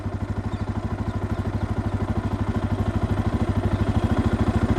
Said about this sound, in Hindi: सबसे पहले आइडियल कंडीशन पर आप इस बाइक का इंजन साउंड सुनो।